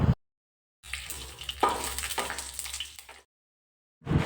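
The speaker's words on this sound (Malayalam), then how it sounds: "ഇതിനെ നമുക്ക് നന്നായിട്ടൊന്ന് ഇളക്കി കൊടുക്കാം" Tomato paste mixture being stirred in a cooking pan for chicken roast, a close, steady scraping and sizzling stir lasting a couple of seconds between short silent gaps.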